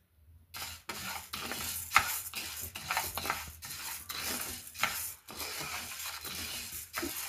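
Urad dal roasts in a little ghee and is stirred steadily, producing rhythmic, close scraping and rustling strokes over a soft sizzle, with no talking.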